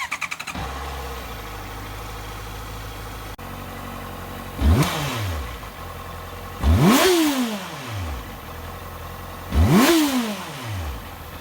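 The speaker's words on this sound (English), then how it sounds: "start the engine, let it idle for 2 to 3 minutes, snap the throttle 3 or 4 times to bleed air" A Honda CBR650F motorcycle engine cranks and catches, settles into a steady idle, then gets three sharp throttle snaps that rise and fall, close and loud with no talk.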